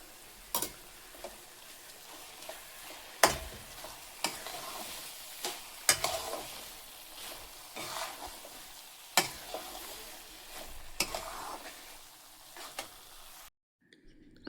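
Carrot halwa cooking in ghee gives off a soft, steady sizzle, broken by sharp scrapes and clacks of a spoon stirring the pan every second or so, with a brief silence near the end.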